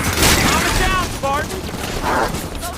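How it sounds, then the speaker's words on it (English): Automated turrets fire in Halo 5: Guardians in a dense, loud burst of rapid shots and mechanical clatter, with game voices and electronic warbles mixed in over the gunfire. "Turrets on and firing."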